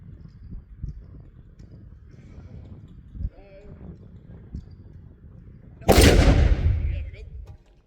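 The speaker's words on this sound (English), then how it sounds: "we are ready to fire the first round. It is the small round, but please cover your ears." A 6-pounder cannon fires a small round at a black-powder display: one loud, sudden boom near the end, after a stretch of crowd murmur and low outdoor noise, then a rumbling decay.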